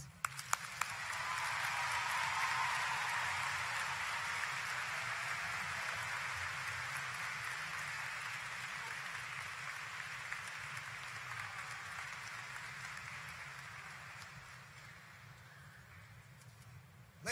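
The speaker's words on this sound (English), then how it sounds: "please give another round of applause for our commencement speaker, Congresswoman Lucy McBath" Sustained, dense applause from a large commencement audience at Virginia State University's 2019 graduation, following Congresswoman Lucy McBath's address. It swells quickly, holds steady for many seconds and tapers slowly toward the end.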